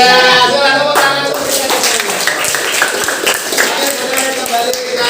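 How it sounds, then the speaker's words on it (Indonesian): Schoolchildren clap together in a classroom after a focus game, a dense run of hand claps with voices mixed in throughout. "Iya, silakan tepuk tangan."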